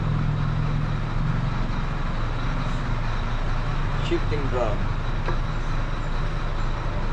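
Road traffic noise outside a workshop, a constant low rumble of passing vehicles with a brief squeal partway through, running underneath someone speaking.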